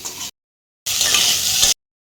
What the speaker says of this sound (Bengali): এখন আলুটাকে আমি লাল লাল করে ভেজে নেব